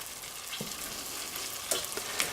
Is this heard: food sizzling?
yes